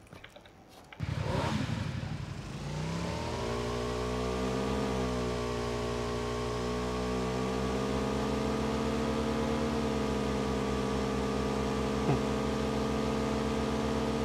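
A PUBG motorcycle engine starts up and runs steadily while riding, a loud continuous drone with shifting pitch that holds for over ten seconds.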